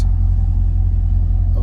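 A 2008 Chevrolet Corvette C6 with the LS3 V8 gives a deep, steady, close-up rumble for a short stretch, with no speech over it.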